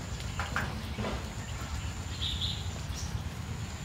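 A red-whiskered bulbul sings near a bird trap outdoors, giving a few short chirps and a brief whistled phrase that stand out faintly over steady background hiss.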